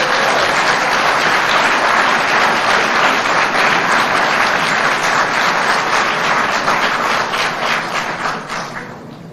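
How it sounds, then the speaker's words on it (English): A crowd applauds during a presidential address to the nation, with loud, dense clapping from many hands that holds strong for several seconds and then gradually thins and fades toward the end. "Maybe I could get some more applause."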